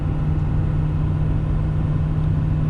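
A heavy truck's engine holds a steady low drone while cruising at highway speed in 8th overdrive gear, around 57 miles per hour, a constant rumble with road noise and no talking.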